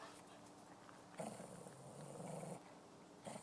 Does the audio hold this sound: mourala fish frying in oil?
no